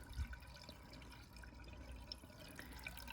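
Water is poured into a clogged air conditioner drain, a quiet trickling and dripping flow with a low gurgle, close but faint, without speech.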